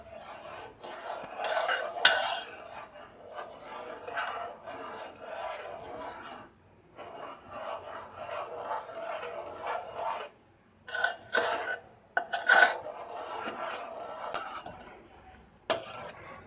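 A spoon stirs and scrapes thick bread rasmalai cream in a pan, producing repeated close rubbing and scraping strokes in bursts, with occasional sharper clinks against the metal.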